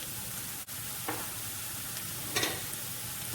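Onions and ginger-garlic paste fry in a pan for a spicy squid pepper roast, a steady soft sizzle with a couple of brief scraping stirs, close and moderately quiet, no voices.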